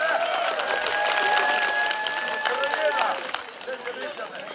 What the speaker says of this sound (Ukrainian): Оплески Яні!